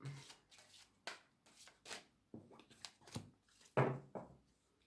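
Angel tarot cards being shuffled and drawn by hand, a run of soft papery riffles and slaps in an uneven rhythm, close and moderately quiet, with one firmer card snap near the end.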